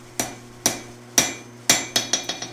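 Hammer blows on an anvil straightening a forged steel knife blade, eight sharp metallic strikes, slow and spaced at first, then quicker and lighter toward the end, over a steady low hum.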